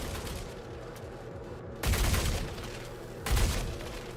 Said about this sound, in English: as your gun warms up, you'll get more and more accurate with each shot